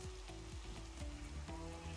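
Rain falls in the video game Minecraft, a soft steady patter and hiss mixed with repeating low pitched tones, faint and continuous throughout without any talk.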